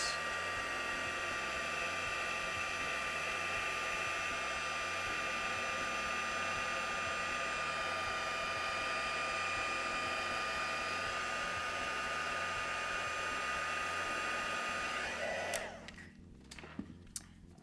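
A heat gun blows with a steady loud whir over embossing powder on a stamped quilt-pattern card, running continuously before cutting off near the end.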